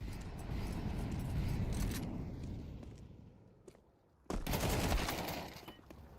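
Rapid gunfire during an esports match of a tactical shooter, 9z against SINNERS at the XSE Pro League: dense bursts of automatic shots, a short lull with a single crack, then another loud volley.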